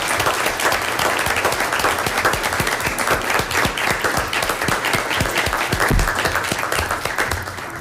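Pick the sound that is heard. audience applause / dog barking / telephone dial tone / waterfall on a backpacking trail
audience applause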